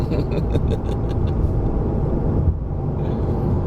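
A Volkswagen Golf GTI MK 7.5 cruises on a highway at about 93 km/h, with a steady low engine and road rumble heard from inside the cabin and people talking over it.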